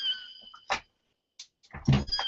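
A cat meows in a short series of calls among other brief sounds, close and fairly clear, ending in a louder, longer yowl.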